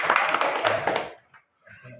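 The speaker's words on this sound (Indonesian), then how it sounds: "tepuk tangan untuk kalian semua" Schoolchildren in an elementary classroom clap together in a brief burst of loud, dense applause lasting about a second, then it stops abruptly, leaving quiet with faint voices and movement.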